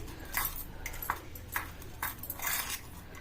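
A metal spoon stirs and mixes food in a pot for Bathukamma festival cooking, giving a quiet series of light clinks and scrapes about every half second, with no voices.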